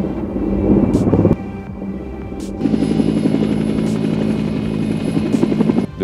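A helicopter takes off beside a mobile deployable hangar, its rotor thumping and turbine whine loud and close, briefly dipping before surging back with a sustained high-pitched whine.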